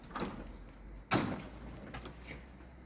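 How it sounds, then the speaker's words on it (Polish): Door to an apartment floor in a building in Córdoba is pulled shut with one sharp thud, followed by faint latch and lock clicks in a quiet hallway. "A tutaj następne drzwi zamykamy do naszego piętra."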